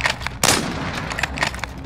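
A single sharp, loud gunshot in a Modern Warfare shooter video game, with faint clicks and game sounds around it, brief and close.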